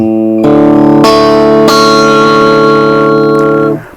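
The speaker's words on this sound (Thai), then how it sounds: "มีเสียงคลีนกับกีตาร์เท่านั้นแล้วดีเลย" A clean electric guitar chord played through a vintage 1980s Japanese Maxon DD01 digital delay pedal, with no reverb, rings loud and sustained, with repeated strums layering echoing tones before fading out.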